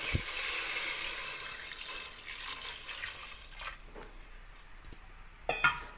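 Water poured into a cooking pot holding pork for a Filipino soup, a watery splashing rush that tapers off, followed by a couple of light clinks of a utensil against the pot near the end.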